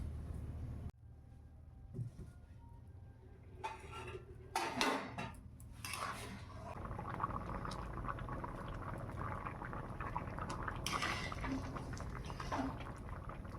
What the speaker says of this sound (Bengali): চালটা ফুটুক।